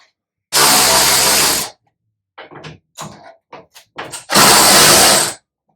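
While the boot of a BMW E30 325i is unbolted, a power tool fires two loud, roughly one-second bursts, and a scatter of short metallic clicks and knocks falls between them.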